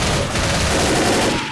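Rapid, dense gunfire during a Left 4 Dead zombie fight, a continuous loud burst of overlapping shots filling the whole short moment without pause or talk.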